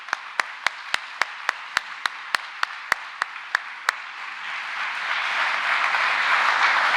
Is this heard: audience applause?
yes